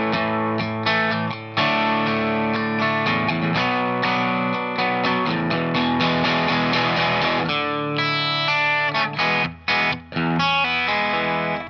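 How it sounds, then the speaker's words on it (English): Distorted electric guitar plays a four-chord, four-bar rock progression starting on A, the B section of a song, loud and continuous with chorus-like effect, a few short breaks near the end, no talk. "So what I played here was 4 chords."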